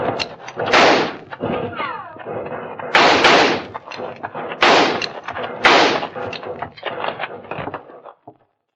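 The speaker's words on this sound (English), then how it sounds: "They've quit firing. I guess they must be reloading." Gunfire in a 1951 Hopalong Cassidy western radio drama set in a canyon: several loud, booming shot bursts, close and sharp, separated by brief pauses, ending abruptly in silence.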